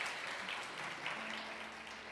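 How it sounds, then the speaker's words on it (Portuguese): Church congregation applauding, a dense, steady wash of clapping from many hands heard at moderate distance, fairly even throughout with no voices over it. "Vamos aplaudir a Deus por isso"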